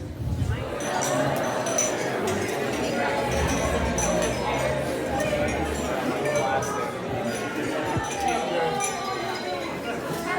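Wedding guests clink glasses after a toast, a scatter of bright chimes and taps spread through a busy reception room under steady crowd chatter and voices.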